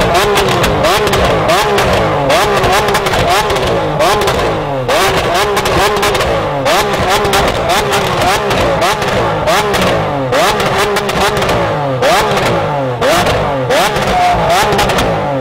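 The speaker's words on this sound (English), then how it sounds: "we're gonna start it, and you guys are gonna hear how loud this exhaust is." Lamborghini Aventador SVJ with a Valvetronic Fi exhaust revving hard, a loud, continuous run of rapid, snarling throttle blips and sweeping rises in pitch, close and unbroken.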